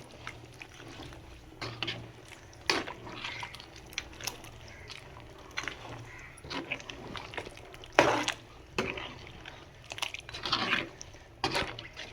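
Liquid poured into a coconut and roasted gram paste for chicken gravy, then stirred, giving wet sloshing and scraping noises in irregular bursts, close and moderately loud, with no talk.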